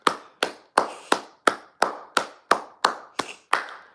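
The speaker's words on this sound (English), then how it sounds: "Round of applause." A single person clapping slowly and evenly, about eleven sharp separate claps spaced roughly a third of a second apart, close and dry, with no voices.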